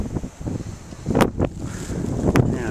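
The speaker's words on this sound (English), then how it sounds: "It is just snow and wind everywhere." Strong wind roars and buffets the microphone during a Christmas Eve snowstorm in Kansas City, steady loud rumble with a few sharper gusts, no talking.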